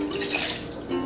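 Milk poured into a measuring cup for a cinnamon loaf batter, a steady close liquid trickle lasting about a second with no talk.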